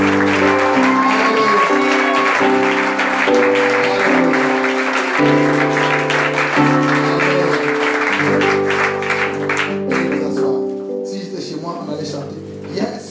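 A church congregation at a deliverance service stands and applauds in acclamation for Jesus, the clapping and cheering mixed with loud organ or keyboard chords and voices before the music thins out near the end.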